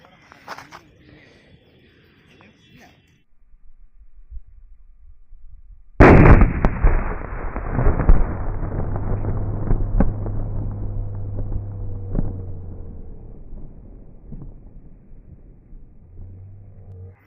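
After a quiet stretch, one loud firecracker blast bursts out, followed by a long crackling, rumbling tail that slowly fades.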